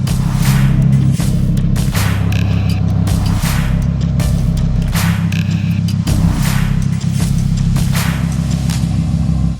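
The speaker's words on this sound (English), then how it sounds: "There's a truck coming." A truck on a mountain road in the Snoqualmie Mountains draws near with a loud, steady engine rumble that fills the whole stretch, with faint rattles and hisses over it.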